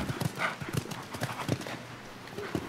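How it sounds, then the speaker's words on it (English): Horse hooves clip-clop at a show jumping grand prix, a quick, steady run of close hoofbeats with a faint background of the arena around them. "you just sit on these horses and run them at fences and jump them"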